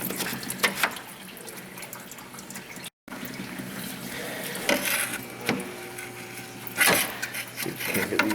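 Coolant runs out of a Subaru EJ25D 2.5 DOHC engine in a steady trickling, splashing stream, close and fairly loud, with a few clanks and faint voices around it.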